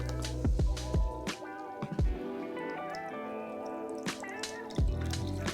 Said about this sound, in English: Next, we're gonna add some soda water, but we only wanna fill the glass about 3/4 full.